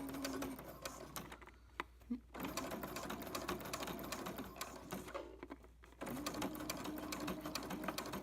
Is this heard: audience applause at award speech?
no